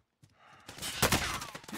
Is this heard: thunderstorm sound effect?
no